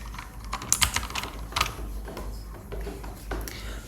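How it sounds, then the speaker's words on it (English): Close, quiet computer keyboard tapping: a scattered run of light key clicks at an uneven pace, with no talk. "You can close this one, you can press Ctrl C for this."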